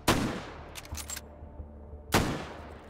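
Two loud, sharp gunshots about two seconds apart, with a brief quieter burst of shots between them, fired in the VR shooting game Hot Dogs, Horseshoes & Hand Grenades.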